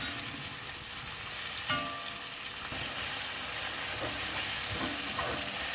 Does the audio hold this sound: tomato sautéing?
yes